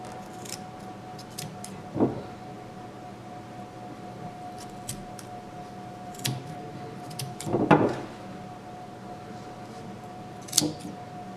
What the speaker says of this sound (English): The last step will be to cut the loops of the yarn so that the string silencer can flare out.